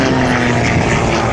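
Aerobatic propeller airplane performing a manoeuvre at an air show, a loud, continuous engine drone with a throaty propeller buzz throughout.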